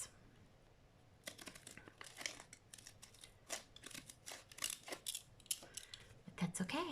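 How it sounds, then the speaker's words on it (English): Decal scissors cutting paper for a junk journal, a run of quick crisp snips and rustling crinkles at close range, starting after a quiet second and growing busier toward the end. "These decal scissors"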